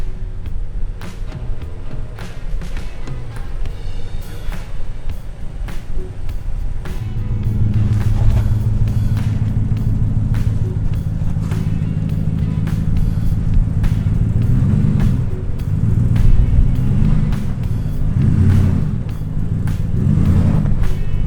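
A lifted 2019 Ram 1500 Rebel drives off-road through mud with its engine rumbling steadily. The engine swells into a louder, sustained drone partway through, with some uneven surging near the end.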